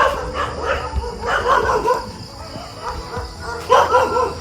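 Several neighborhood dogs bark and yip excitedly during a morning street walk, with repeated bursts of barking close by and a few whimpery yelps, while people chat intermittently in the background.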